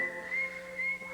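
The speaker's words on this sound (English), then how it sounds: "And you whistle." A person whistles a sustained, steady tone in two long phrases with a short break between them, close and clear.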